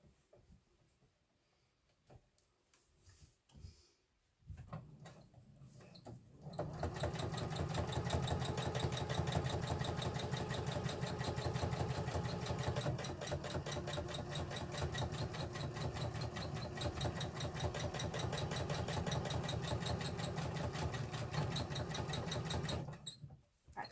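A sewing machine stitching a rainbow window quilt, starting after a few seconds of quiet handling and then running in a steady, rapid mechanical chatter for most of the stretch before stopping at the end.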